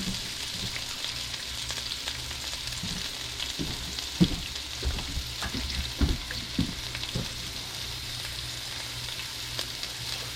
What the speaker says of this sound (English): We're gonna cook these things down till they get translucent.